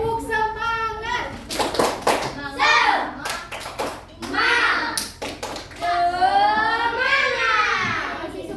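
Schoolchildren in an Indonesian classroom perform a rhythmic spirit clap, with bursts of hand claps mixed with loud children's chanting voices throughout.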